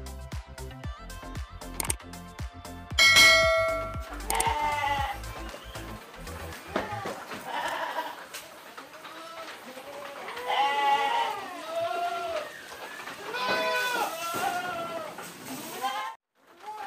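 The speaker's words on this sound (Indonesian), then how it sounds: "kita ikuti Pak Saimo memberi makan kambing-kambingnya dan domba-dombanya." Goats and sheep bleat repeatedly while being fed at a backyard farm pen, several animals calling close by in overlapping bursts, with thumping and rattling at the start.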